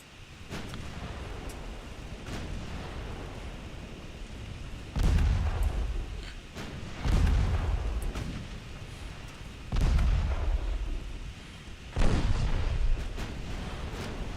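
Naval guns fire in the warship game Ultimate Admiral Dreadnoughts, with several heavy booming salvos at irregular intervals over a constant low rumble of sea and battle ambience.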